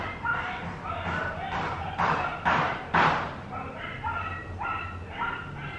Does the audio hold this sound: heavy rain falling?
no